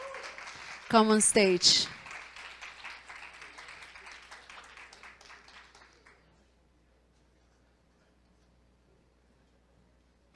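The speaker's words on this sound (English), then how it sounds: "An applause, please, for them." A conference crowd applauds two speakers coming onto the stage. A brief spoken call rises over it early on, then the clapping thins and fades out after about six seconds.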